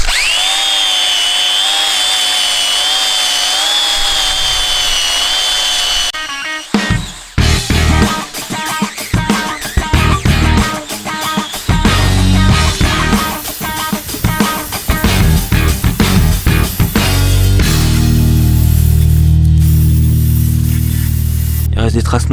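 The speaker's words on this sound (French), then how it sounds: "je vais prendre une brosse métallique sur la visseuse. Et puis bah, après ponçage de tous les petits endroits là qui sont pas accessibles." A wire brush spinning on a cordless drill scours rust off a van body, starting with a steady whining drone, then loud, rough rasping and grinding in repeated bursts, close and harsh.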